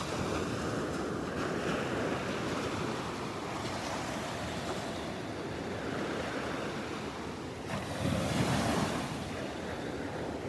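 Small ocean waves curling and breaking on a Gulf beach at Delnor-Wiggins, a continuous soft wash of surf with wind rumble on the microphone and a slightly louder wave surge near the end.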